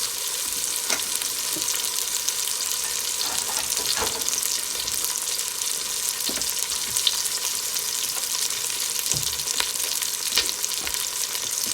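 Plastic spatula stirring and scraping the bottom of a pot as a venison roast cooks, with repeated scrapes over a steady, loud sizzle and no talking.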